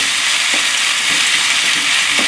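Vegetables and thick rice noodles stir-fry in a big skillet, giving a loud, steady, continuous sizzle with faint scrapes from stirring and no voices.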